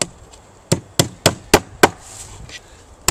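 Hammer blows driving nails into a wooden beehive honey super, six sharp evenly spaced knocks roughly a third of a second apart, close and loud, followed by quieter tapping.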